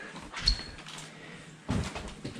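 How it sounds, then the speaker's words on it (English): A door thuds shut with a soft knock, followed moments later by another louder clunk and rattle nearby. "I'm closing the door"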